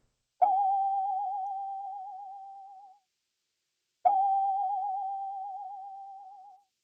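Two sustained one-shot tones from a pedalboard sample library, each with a sharp attack and a wavering, vibrato-like pitch that slowly fades over about two and a half seconds, separated by a short silence.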